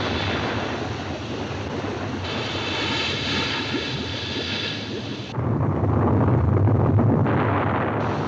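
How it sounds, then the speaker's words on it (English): A deep underwater explosion from a vintage sci-fi adventure film, heard as a loud sustained rumbling roar that swells again partway through. "The explosion wasn't powerful enough to bring up the stones."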